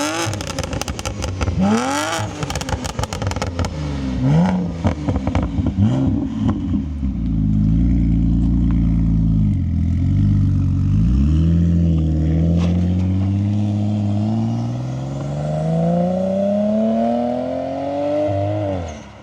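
A 2006 BMW 335i E92 starts with a crackling cold start and short throttle blips, then accelerates hard and long. Its engine note climbs steadily in pitch through the gears, loud and close, with no talking.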